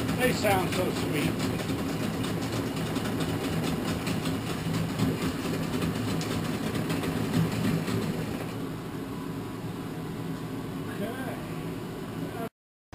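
A pair of 40 hp Yamaha Enduro outboard motors run steadily at a low, droning idle for the whole stretch, with a slight drop in loudness partway through and a faint mechanical clatter underneath.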